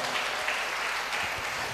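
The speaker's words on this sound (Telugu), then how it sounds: "గట్టిగా చప్పట్లు కొట్టి గట్టిగా దేవుని మహిమ పడదాం" Audience at a church gathering clapping loudly and steadily throughout, a dense continuous wash of hand claps with no talking over it.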